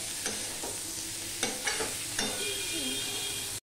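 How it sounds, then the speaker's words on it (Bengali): Tomatoes fry in a pan for a Bengali fish curry, a steady close sizzle broken by a few scraping stirs of the spoon, with no voices. "এবার টমেটোটা নরম হওয়া পর্যন্ত আমি ভাজতে থাকবো বন্ধুরা।"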